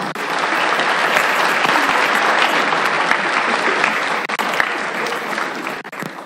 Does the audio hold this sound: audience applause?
yes